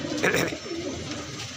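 Punjabi and madrasi pigeons coo softly at a pet shop in a single short, low, throaty call with faint background noise.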